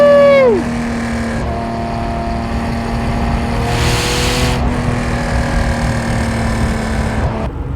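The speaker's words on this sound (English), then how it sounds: "Let's downshift in the third and give it a rip." A Gunther Werks Porsche Speedster engine revs hard after a downshift to third, opening with a quick falling blip and then holding a loud, close, steady howling drone with a brief raspy surge midway.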